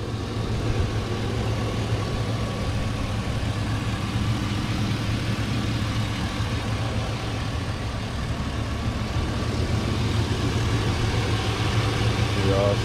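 A Corvette Grand Sport with a 5.3 Vortec V8 idles with the hood up at a dealer-only auction, a steady low engine hum that stays even throughout, heard close.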